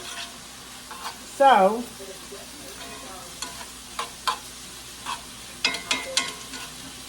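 Jalapenos sizzle softly in a pan, with a spoon scraping and stirring in brief clicks and scrapes, while a voice speaks briefly.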